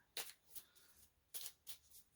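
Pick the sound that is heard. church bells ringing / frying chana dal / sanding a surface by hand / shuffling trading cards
shuffling trading cards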